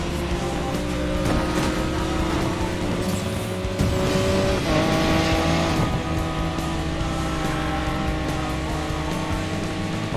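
Car drifting at speed in a race setting, its engine roaring continuously for ten seconds with rising and falling revs and a tire squeal through the slide, loud and close, with no voices over it.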